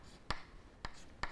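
Three quick, evenly spaced strokes of a marker writing math on a board, soft scratchy squeaks in a quiet room with no talking.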